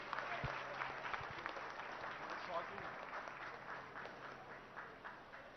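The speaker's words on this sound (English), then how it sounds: "Could we give a big round of applause to him" An audience applauds a minister at the inauguration of an electronics facility, giving steady, moderately distant clapping with a few voices mixed into the dense crowd noise.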